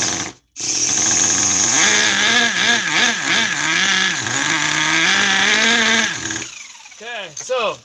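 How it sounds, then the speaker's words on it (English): A small engine left running too rich after a carburetor adjustment: a loud, uneven rumble that surges and sags in repeated revs for several seconds, then cuts off and sputters briefly near the end. "Okay, so this engine is way too rich."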